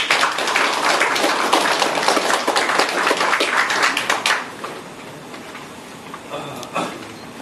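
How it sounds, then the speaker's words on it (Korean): An indoor audience at a party founding ceremony claps loudly to welcome a speaker, a dense burst of applause lasting about four seconds before fading to scattered claps and room noise. "큰 박수로 환영해 주십시오"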